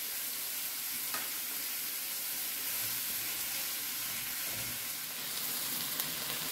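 Chicken meat sizzling and frying in a pan with onion, a continuous bright hiss with occasional stirring scrapes, steady and close, no talk.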